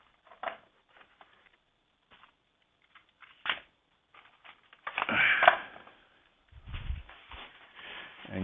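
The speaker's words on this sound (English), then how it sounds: "bear with me as I get another set of message cards" A deck of Hidden Truths twin flame message cards being handled, with soft scattered taps and rustles, then a louder burst of shuffling and sliding cards near the end, close and fairly quiet.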